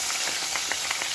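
Chicken sizzles in a pan with onion and garlic for an Algerian olive tagine, giving a steady close hiss of frying with small crackles and pops scattered through it. No voices are heard.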